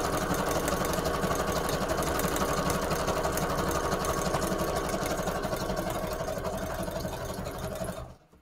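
A sewing machine stitches paper for a Christmas craft, running steadily at close range with a fast, even mechanical chatter and hum before stopping abruptly near the end, with no talking.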